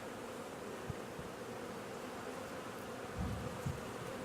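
Honeybees hum inside a hive over a brood frame filled with eggs and worker brood, a steady close buzzing swarm with a slight swell near the end.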